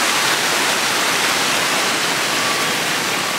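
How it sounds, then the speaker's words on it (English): Pool water fountains splash continuously at a resort in Waikoloa, Hawaii, a loud, steady rushing hiss of falling water close by with no voices. "Got the little fountains for the kids, a couple of nice little water slides."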